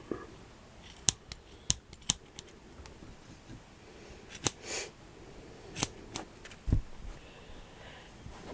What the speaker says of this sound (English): I can see where I want to trim it a little bit more. You just cut it short.